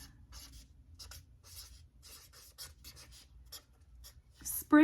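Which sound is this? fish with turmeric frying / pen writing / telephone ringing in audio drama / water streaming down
pen writing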